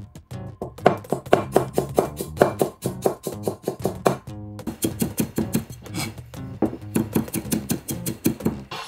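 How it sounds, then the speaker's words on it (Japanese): Knife mincing ginger and garlic on a cutting board, with rapid, close, crisp chops in bursts separated by brief pauses. "同量程度の生姜もみじん切り。"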